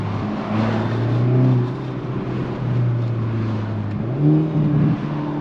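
A Hyundai Elantra N with factory exhaust idles with a deep, throaty drone, rising in pitch briefly with a couple of light revs before settling back.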